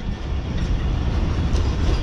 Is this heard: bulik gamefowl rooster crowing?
no